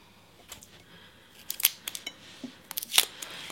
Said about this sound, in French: je vais maintenant pouvoir venir décoller mon scotch